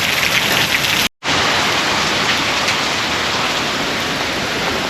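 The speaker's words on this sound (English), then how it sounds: "It's a typhoon, I tell you." Heavy rain pours down in a dense, steady roar, broken once by a brief moment of silence.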